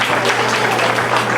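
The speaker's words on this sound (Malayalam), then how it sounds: "അച്ഛനെ നമുക്കൊരു കയ്യടിയോടുകൂടി സ്വാഗതം ചെയ്യാം." An audience at an Onam celebration claps loudly to welcome a priest onto the stage, a dense, close burst of many hands that stays steady throughout.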